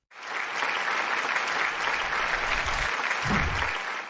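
Applause for a guest speaker at a training day, a dense, even round of clapping that lasts about four seconds with no one speaking.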